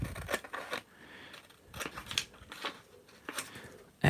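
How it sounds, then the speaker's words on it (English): Scissors snip through paper for a collage journal cover, several crisp close cuts in an irregular rhythm with short pauses, ending on a sharper snip; no one speaks. "I'm going to cut it to here, as I say, because I can trim it down"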